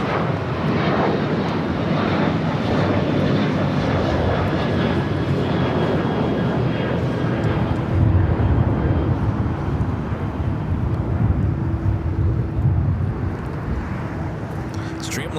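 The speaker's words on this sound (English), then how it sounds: "Dreamliner coming in from London Heathrow, flight 935 at 787-9 at Dreamliner." A Boeing 787-9 Dreamliner arriving from London Heathrow lands at LAX, its broad, steady engine roar loud and sustained throughout, fading slightly near the end, with a voice talking over it.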